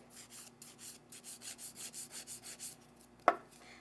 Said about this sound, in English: with this little method right here, just going around and down, you're getting like half of your nail filed